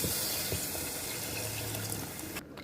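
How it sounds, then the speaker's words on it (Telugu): Water pours steadily into a cooking pot holding salt, dried red chillies and curry leaves, a continuous near splashing stream that stops abruptly at the end. "సో ఉడకడానికి వాటర్ పోసేసుకుందామా"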